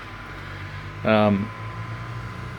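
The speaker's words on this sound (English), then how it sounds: "that humming sound you can hear is actually the fans running on the 12-inch mirrored scope" Cooling fans on a 12-inch mirror telescope in an observatory hum steadily and evenly throughout, with a single brief spoken word partway through.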